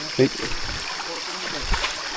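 Water runs out of a channel line on an outdoor path, a steady broadband rushing hiss with a couple of brief low thumps nearby.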